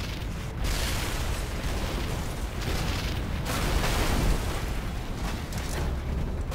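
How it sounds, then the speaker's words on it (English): Explosions in the video game Red Faction: Guerrilla, a continuous roar of blasts and rumbling debris that swells and holds at high loudness without pause. "Explosions everywhere!"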